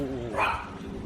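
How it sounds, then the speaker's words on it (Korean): A dog gives a short, fairly faint bark at a night market in Dalat, Vietnam, over a murmur of background noise. "개들이 자꾸 짖어요"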